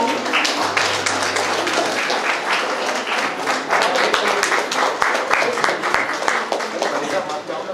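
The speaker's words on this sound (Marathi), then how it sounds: "पुन्हा एकदा टाळ्यांचा गजर होऊ द्या" Sustained applause from an audience honoring a guest at a senior citizens' program, steady dense clapping for several seconds with a few sharper claps standing out near the end.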